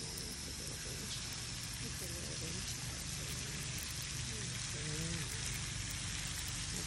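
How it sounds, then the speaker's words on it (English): A light shower of water patters steadily onto a tortoise, making a constant close hiss throughout, with a faint voice murmuring underneath. "The little rain shower."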